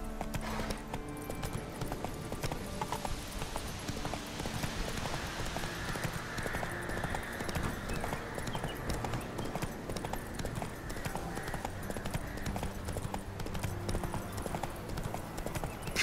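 Horse hooves clip-clop in a fast, steady galloping rhythm in The Witcher 3, faint and continuous for the whole stretch with game ambience underneath.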